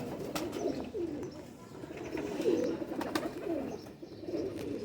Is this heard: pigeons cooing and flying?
yes